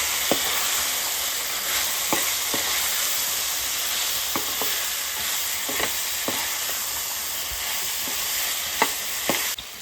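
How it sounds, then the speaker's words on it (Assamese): Potatoes and chopped drumsticks frying and sizzling steadily in a pan, with a bright continuous hiss broken by occasional sharp scrapes and clicks of stirring. "এতিয়া ইয়াত আমি দি দিম কাটি লোৱা চজিনাখিনি আৰু ধুনীয়াকৈ মিক্স কৰি সিজিবলৈ দিম"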